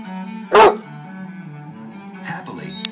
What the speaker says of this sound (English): nobody hates those commercials more than the dog, Cooper.